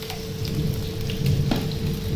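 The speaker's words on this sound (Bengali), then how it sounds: "বাইরে প্রচণ্ড হাওয়া দিয়ে বৃষ্টি হচ্ছে" Steady heavy rainfall hisses and patters continuously, with a low rumbling roar underneath, close and fairly loud.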